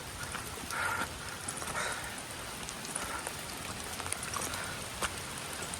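Steady rain falls at the rice terraces in Ubud, Bali, as a constant, moderately loud patter with scattered drips and no speech.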